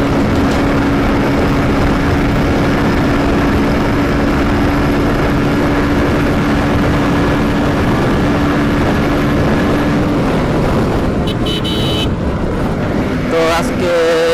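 Motorbike ride along the Dhaka–Mymensingh highway, with steady loud wind rush and engine drone throughout, a faint tonal hum in the first ten seconds, and brief clatters and passing noises near the end.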